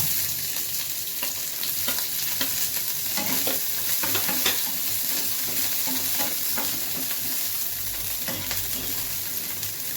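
Chopped capsicum and carrot fry in a hot pan for white sauce pasta, with a steady close sizzle and repeated scraping stirs throughout and no talking.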